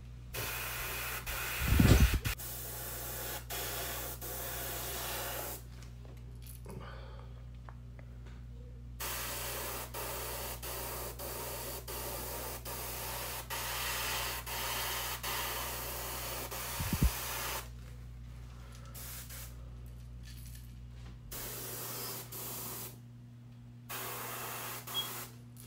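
A spray gun hisses steadily as it lays candy paint onto a sponge crawfish lure, a long broadband spray that cuts out in short pauses, close and constant, with a couple of brief knocks and no talk.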